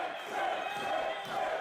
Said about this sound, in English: And the crowd rallying behind Chris Bay.